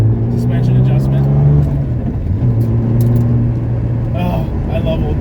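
A 1970 Porsche 911T on a road drive gives a steady, droning engine note with rising and falling pitch inside the car, while someone talks over it.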